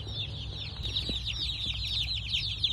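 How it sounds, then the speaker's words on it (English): Broiler meat chickens cluck steadily at close range, with busy overlapping calls forming a continuous chatter over a low background hum, with no talking. "So this year we're raising 4 different types of broilers,"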